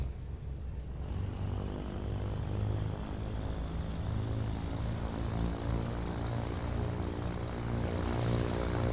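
Twin-engine Cessna 414 piston engine running after start-up in a flight simulator, a steady loud propeller drone with a low throbbing hum that holds constant throughout, no talk over it.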